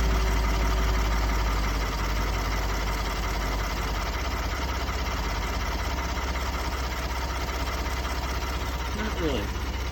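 A high-mileage Ford EcoBoost engine with 233,000 miles idles after an oil change with 5W-30 Pennzoil Platinum, a steady continuous hum with faint ticking. A person talks over it.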